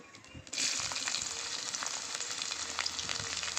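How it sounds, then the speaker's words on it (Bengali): Crushed garlic dropped into hot oil in a pan for a water spinach dish, bursting into a loud, steady close-up sizzle that starts abruptly and continues without pause. "তেল দিয়ে দেবো পরিমাণ মতো এবার দিয়ে দেবো থেতো করে রাখা রসুন"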